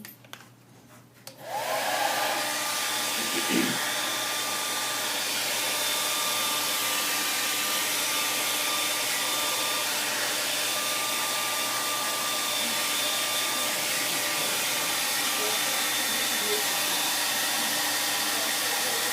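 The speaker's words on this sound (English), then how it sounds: "Now, I've got to dry that real quick because I don't want to lose what I just did." A hair dryer switches on with a click and runs as a loud, steady whirring blow for many seconds, drying wet paint on a painting, with no talking.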